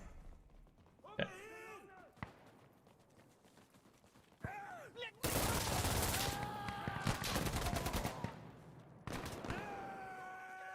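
Burst-mode gunfire rings out in the video game Operation: Exodus, with short clusters of sharp shots followed by a long loud stretch of rapid fire, while a voice speaks briefly between bursts.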